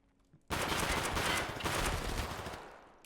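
Pistol fire in the survival shooter Escape From Tarkov erupts suddenly as a dense, loud barrage of shots and fades slightly toward the end, with no talking over it.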